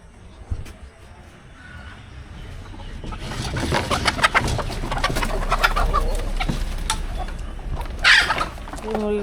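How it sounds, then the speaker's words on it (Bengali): Village chickens are let out of their coop in the morning, clucking and calling steadily at close range amid rustling, with a sharper burst near the end. "মুরগিগুলো ছেড়ে দিয়ে আসি।"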